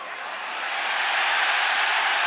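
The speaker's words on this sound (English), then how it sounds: "Listen to this crowd." An arena crowd at a UFC fight between Islam Makhachev and Alexander Volkanovski: a broad, steady roar of cheering that swells slightly and holds, heard from a distance with no voice close by.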